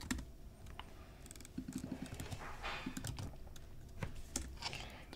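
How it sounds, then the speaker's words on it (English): Rapid typing on a computer keyboard, a dense, quick patter of clicking keystrokes close by with occasional louder taps, continuing throughout without speech. "Bro, that's really fast typing."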